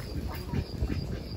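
Ducks quacking close by in a farmyard, a short run of several rapid, raspy quacks, fairly loud with no talk over them.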